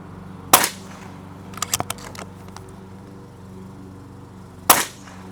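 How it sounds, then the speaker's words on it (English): Two sharp, loud cracks from a Pinty Timber Classic PCP air rifle fired into 3/4-inch boards, spaced about four seconds apart, with a few quick clicks and taps in between. "First board, 3 shots in, 3 shots out."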